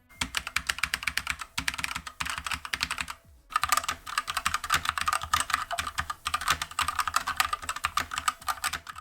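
Rapid typing on an E-YOOSO K620 budget mechanical keyboard, dense clacky keystrokes in steady bursts with one brief pause, close and clear with no talking.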